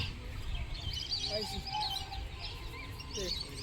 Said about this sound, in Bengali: আর টিয়া পাখি প্রচুর এখানে